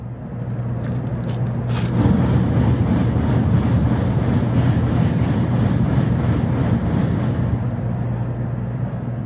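Steady rumble of a Kodama Shinkansen bullet train running in Japan, a loud continuous low drone with a constant hum and faint rattling, unbroken throughout with no talk.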